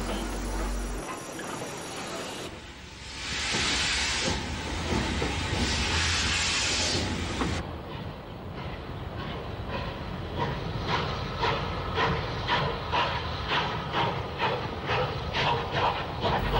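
Bournemouth Central railway station in the steam era, with hissing steam bursts from a locomotive followed by the rhythmic clatter of train wheels over rail joints as carriages roll through, close and continuous.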